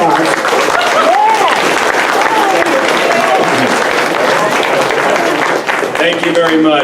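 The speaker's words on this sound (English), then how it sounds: "Please put your hands together for a big applause." An audience at a senior center tenth anniversary celebration claps steadily in dense, loud applause that fills the room throughout, with voices and cheers mixed in.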